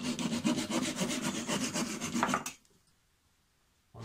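Steady back-and-forth sawing trimming a wooden dowel flush, a rapid rasping rhythm for about two and a half seconds, then it stops and near silence follows.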